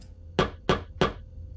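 Hammering in the video game Garten of Banban 2: three evenly spaced, heavy hammer blows land about a third of a second apart over a low background rumble, with no talk.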